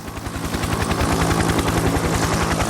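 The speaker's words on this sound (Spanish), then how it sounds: "Apareció una nueva generación de helicópteros. En cabeza estaba el Huey, el Bell UH-1." A Bell UH-1 Huey military helicopter thumps steadily with rapid, evenly spaced rotor blade beats over a loud engine whine, close and sustained throughout.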